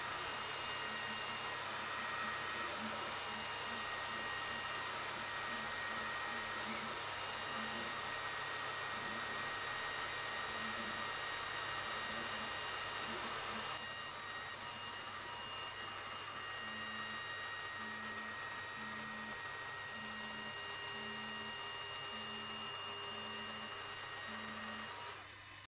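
xTool laser engraver cutting through plywood, a steady faint whirring fan hum with a rhythmic pulsing tone from the moving head, continuous throughout.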